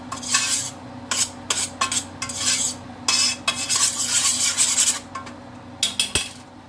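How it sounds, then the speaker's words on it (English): A utensil scrapes and stirs chili meat in a pot in quick, irregular strokes, with gritty rubbing bursts over a steady low kitchen hum. "I'm stirring it around to get all that flavor in the meat"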